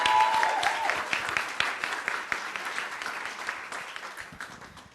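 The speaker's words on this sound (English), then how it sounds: "Let's give another quick round of applause to our first 4 finalists today." Sustained audience applause for summit finalists at a children and youth resilience event, a dense close crowd of clapping that gradually thins and softens over five seconds.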